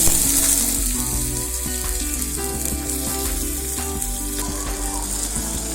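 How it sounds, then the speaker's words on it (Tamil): Mustard seeds, urad dal and curry leaves tempered in hot oil for a small-onion chutney, a loud continuous sizzle with crackling pops and a few stirring knocks, close up with no voices. "இப்போ தாளிச்சிக்கலாம். கடுகு, உளுத்தம்பருப்பு, கருவேப்பிலை தாளிச்சு."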